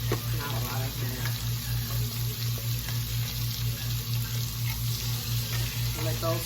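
Mushrooms cooking in a pan on medium heat for a creamy mushroom chicken dish give a steady, close hiss that sounds like sizzling or running water, over a constant low hum.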